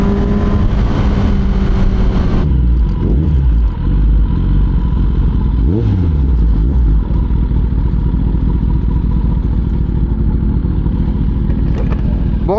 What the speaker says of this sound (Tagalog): Ay, narinig ko yung motor.